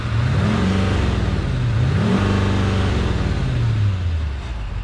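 A GMC Sierra 2500HD Denali heavy-duty truck engine revving in park, rising and falling twice in steady pulls up to its limiter, close and continuous with a quiet exhaust note.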